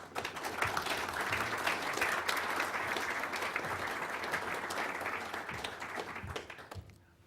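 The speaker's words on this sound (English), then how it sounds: "Please join me again in a great round of applause for what has been excellent." Sustained applause from a conference audience for a panel on commercial crew and cargo spaceflight, steady dense clapping filling the room for about seven seconds before cutting off abruptly.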